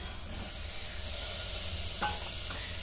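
Green peas and potatoes with homemade masala sizzle in a pan, a steady soft frying hiss with one brief scrape of a spoon near the end; no voices.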